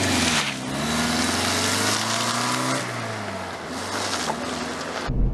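A Toyota Previa van drives along with a steady low engine drone that rises and falls with gear changes, overlaid by loud wind and road rush, close and without talk.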